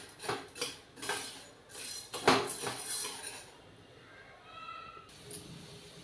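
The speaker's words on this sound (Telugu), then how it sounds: "ఇలా కలుపుకుంటూ నీట్గా వేయించుకోవాలండి సిమ్లో ఉండి" Lentils being dry-roasted in a pan on a low flame while a spoon stirs them, giving a series of close metallic scrapes and clinks that come thick at first, then thin out into a quieter stretch.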